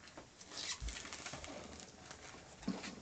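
Pigeons in the Battlefield 1 video game flutter and coo faintly, soft wing flaps and low calls scattered over a quiet, hissy background with no talking.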